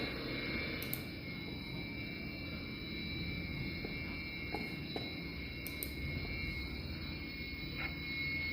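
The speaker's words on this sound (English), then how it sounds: "And notice the aircraft is now opening full power." Fighter jet on an emergency landing strip along a highway bypass opening to full power, a steady distant roar with a faint high whine, continuous and moderately loud without speech.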